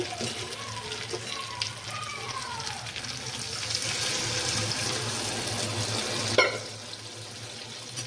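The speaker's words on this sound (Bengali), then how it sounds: "এখন আমি জল দিয়ে দেবো" Water pours steadily into a pan of spice masala for a fish curry with taro, a continuous loud hiss and sizzle that runs almost the whole time and ends with a brief clunk.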